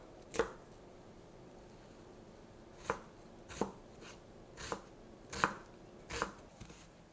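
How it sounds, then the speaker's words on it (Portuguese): Half a medium onion is chopped finely on a board, about eight sharp, separate knife strikes at an irregular pace over a quiet background, with no speech. "Vamos cortar também meia cebola média, bem picadinha"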